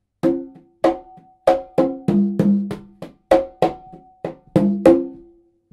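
Congas play a funk rhythm from a song, with sharp open tones and slaps in a steady repeating pattern of about a dozen hits, close and clear with no talking.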